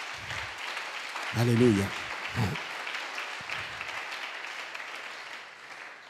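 Church congregation at a French-language sermon applauding in a steady, moderate clatter of clapping while a voice calls out over it, with crowd noise filling the background.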